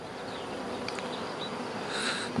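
Honey bees buzz steadily around an opened hive during a spring colony inspection, a dense continuous drone close by with a few sharper passes of individual bees flying near.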